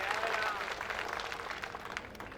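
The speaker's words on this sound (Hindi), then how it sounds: "जोरदार तालियां आशीष दुबे जी के लिए" Loud, steady applause from a crowd at a political rally in Madhya Pradesh, a dense wash of clapping that runs unbroken from start to finish.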